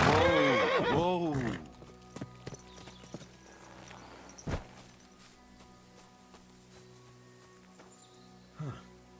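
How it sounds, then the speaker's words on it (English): A horse in the woods in Kingdom Come: Deliverance II whinnies loudly at the start with a rising and falling cry, followed by a few soft scattered thuds and a brief snort later on. "A horse? What's it doing here in the woods?"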